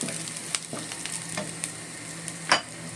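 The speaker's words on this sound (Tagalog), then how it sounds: "Deep fry tayo ng garlic. Fry the garlic." Garlic deep frying in oil while chicken wings are being cooked, a quiet steady crackle and sizzle with scattered pops and one louder utensil knock near the end, close and without talk.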